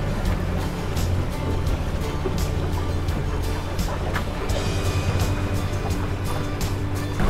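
Small fishing boat cruising slowly along a channel at about 4 knots, a steady low engine drone with water wash and wind noise running continuously, fairly loud and close.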